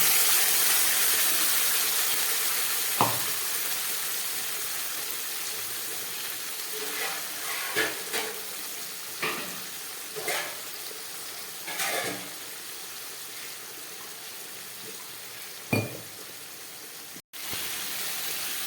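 Ginger, garlic, chili and onion paste frying in a pan for a raw jackfruit curry gives a steady, fairly loud sizzle and hiss, with a few sharp clinks and stirring scrapes scattered throughout.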